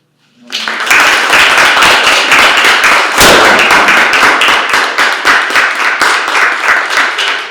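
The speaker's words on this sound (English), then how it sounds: "So, round of applause for Joseph and Mario." Loud, close applause at a poetry reading, an abrupt burst of sharp overlapping hand claps that continues steadily with a few louder individual claps standing out.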